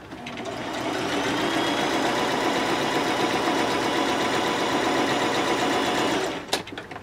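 A sewing machine stitches quilt fabric in one steady, fast mechanical run of about six seconds, then stops with a brief click, close and alone.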